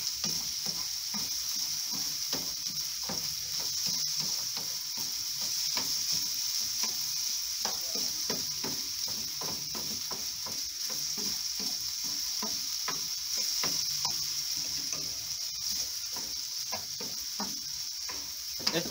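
Potatoes stir-frying in a pan with chorizo, a steady broad sizzle under repeated scraping and stirring strokes, continuous and close for the whole stretch.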